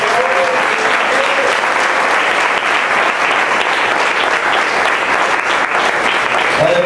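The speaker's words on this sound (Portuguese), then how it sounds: "E dê agora um lindo aplauso ao Espírito Santo" A church congregation at an intercession gathering bursts into loud, sustained applause, a dense wall of clapping from a large crowd continuing steadily for about seven seconds.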